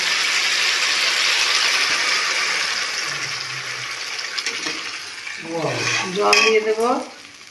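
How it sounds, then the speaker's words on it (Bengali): A little water hits hot spice masala frying in oil in a pan, raising a loud, steady sizzle and hiss close by, with stirring and a few clinks, and a voice speaks briefly near the end. "এবার আমি সামান্য জল দিয়ে দেবো।"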